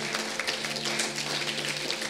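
A church congregation applauding together at an evening Pentecostal worship service, a continuous dense wash of many hands clapping, loud and steady throughout with a sustained musical tone underneath.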